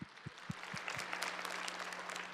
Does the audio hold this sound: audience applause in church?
yes